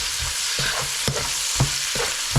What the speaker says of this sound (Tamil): வெங்காயத்தை போட்டு அந்த வெங்காயம் நல்லா ப்ரௌனாக வர்ற வரைக்கும் அதை ஃப்ரை பண்ண வேணும்